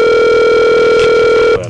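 A Skype call placed from a cell phone rings out as a loud, steady electronic tone with sustained harmonics, holding evenly for about a second and a half before cutting off abruptly.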